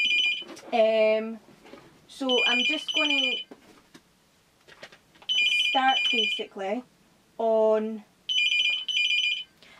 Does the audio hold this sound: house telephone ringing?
yes